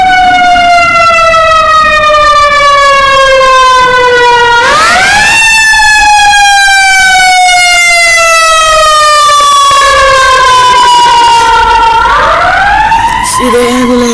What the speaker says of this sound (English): Every day you hear the ambulance.